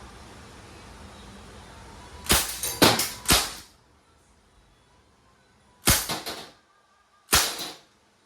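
A Crosman A4-P CO2-powered airgun fires 4.5mm steel BBs in semi-auto: three quick sharp cracks, then two more spaced single shots, each loud and close with a short tail, over quiet room background.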